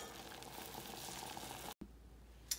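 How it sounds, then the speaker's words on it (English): Beets boiling in a pot give a steady, soft bubbling hiss that cuts out for a moment, then returns quieter and ends with a small click. "So we're gonna continue to boil these until they're super,"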